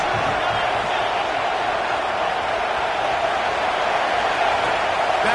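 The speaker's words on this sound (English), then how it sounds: "this crowd is turning it up a notch" A stadium crowd in the College Football 26 video game roars in a dense, unbroken wall of cheering that holds steady throughout.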